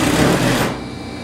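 A sewing machine runs in a steady, close, fast whir while stitching a double-sided coat, then slows and quiets toward the end.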